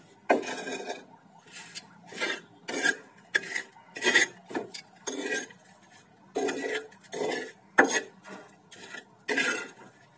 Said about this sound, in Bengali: এই ভাতের সঙ্গে এখন এটাকে ভালোভাবে মিশিয়ে দেবো, একটু চেপে চেপে মিশিয়ে দিতে হবে।